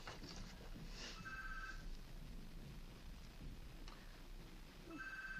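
A telephone rings twice in electronic bursts, faint and set apart, over a steady low background hum.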